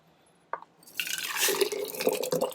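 Tomato liquid poured into a glass canning jar, a steady close splashing pour that starts after a brief clink and builds into continuous trickling.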